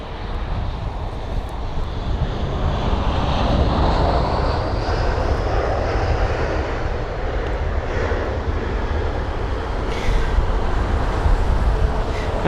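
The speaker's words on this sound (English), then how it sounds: "So it's the Tarom A318 with the reg Yankee Romeo Alpha Sierra Bravo, or YRASB, and it's the arrival from Bucharest" A Tarom Airbus A318 airliner arriving from Bucharest fills the scene with a steady, loud jet roar and a slowly rising whine on top. The sound holds throughout without any talking.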